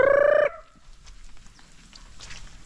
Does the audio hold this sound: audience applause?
no